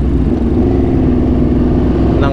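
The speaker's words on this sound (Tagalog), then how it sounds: "maingay na nga yung motor natin pag di ka bumubomba" A loud, steady engine drone close by, holding a constant pitch like an idling or lightly revved motorcycle.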